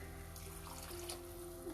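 Water pours steadily into a cooking pot of sautéed rice and dal for Andhra-style pulagam, a faint continuous splashing stream under a low steady hum with no talk.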